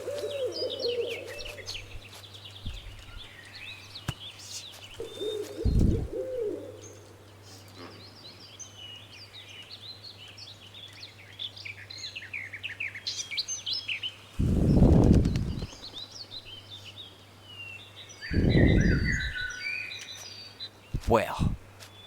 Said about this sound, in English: I hear woodpeckers, but I just don't see anything around here.